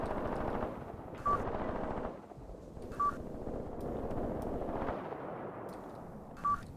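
Dense, continuous rumbling battle noise from the Graviteam Tactics war game as artillery falls around a tank, with crackling gunfire and a few brief high beeps, heard at a steady distance with no talk.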